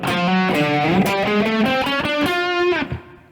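Distorted electric guitar plays a riff variation, loud and close, a run of sustained notes stepping up the neck before a sudden cutoff near the end.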